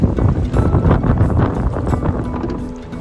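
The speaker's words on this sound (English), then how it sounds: "it's pretty windy." Wind buffets the microphone on a canoe trip across a lake in Temagami toward Upper Lady Evelyn Lake, a loud, low, rumbling gusting that stays strong throughout, with faint water and boat noise beneath.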